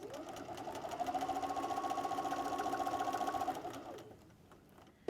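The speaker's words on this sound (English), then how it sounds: "and keep stitching." A sewing machine stitches a quilted wall calendar with a quarter-inch seam, a fast, even mechanical whir running for several seconds before it slows and stops, followed by a faint click.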